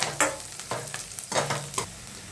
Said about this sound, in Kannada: ಅದನ್ನು ಸ್ವಲ್ಪ ಫ್ರೈ ಮಾಡ್ಕೊಳ್ಳೋಣ